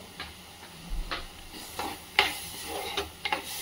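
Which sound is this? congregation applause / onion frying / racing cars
onion frying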